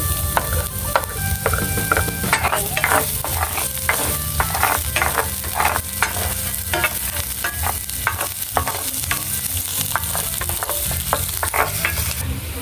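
Garlic sizzles in a frying pan while being stirred, a steady close crackle with repeated scraping strokes of the spatula all the way through.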